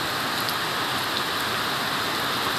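Steady rain falls through an afternoon shower, a dense continuous hiss of drops on surfaces, even and unbroken throughout with no voices.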